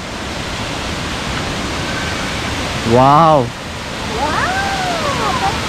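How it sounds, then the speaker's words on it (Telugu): Buttermilk Falls, a waterfall near Chikmagalur in Karnataka, gives a steady broadband roar of falling water throughout, close and constant, with a brief excited voice and a whistle-like call cutting in partway. "So this is butter milk water fall."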